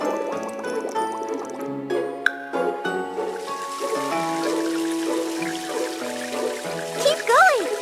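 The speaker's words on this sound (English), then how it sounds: "Now you'll need to wash off all those bubbles with water" Game-style trickling water sounds as a puppy is rinsed of bubbles in a kids' game, over bright, tinkly background music, with a few rising chime effects near the end.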